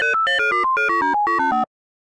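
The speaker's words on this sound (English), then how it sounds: "To really hear how our sine wave is being modulated" A synthesized sine-wave tone with pitch modulation, in Super Nintendo-style music, plays a quick stepping melody of about a dozen short notes, each wavering in pitch, bright and buzzy, stopping abruptly after under two seconds.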